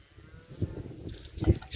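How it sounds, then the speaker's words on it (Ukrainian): Cows lowing briefly in a Ukrainian village, with two short low moos against a quiet, foggy outdoor background. "Коровки мукають."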